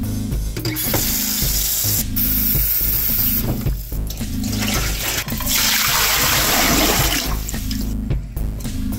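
Tap water runs steadily and loudly into a shoebox-sized container, filling it for cooking rice as mushroom grain spawn, with a continuous rushing flow broken by a few brief clunks and pauses.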